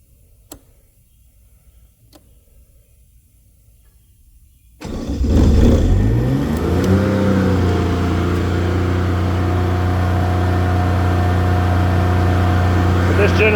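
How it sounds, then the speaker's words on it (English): A Kubota diesel generator sits silent apart from a few faint ticks, then cranks, fires and settles into a steady, loud, humming run that continues to the end. "This generator here is super quiet."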